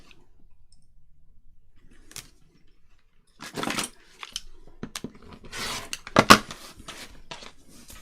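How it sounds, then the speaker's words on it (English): Scissors cut a picture out of paper around a masked edge. After a quiet stretch come sparse, close snips and clicks, ending in a short burst of cutting with a sharp click. "let's cut out this picture as it is"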